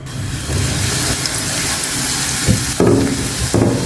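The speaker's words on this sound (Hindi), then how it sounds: "पैन में मैं डाल दूंगी 3 टेबल स्पून ऑयल। ऑयल यहाँ पर गर्म हो चुका है।" Finely chopped garlic cloves frying in three tablespoons of hot oil in a pan, a loud, close, steady crackling sizzle with occasional stirring scrapes.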